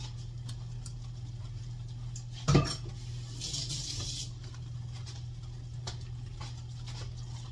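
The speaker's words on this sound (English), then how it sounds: "Get a spoon here, taste of it." A metal spoon gives one short, sharp clink against a taco casserole dish over a steady low hum, followed by a few faint scrapes and ticks.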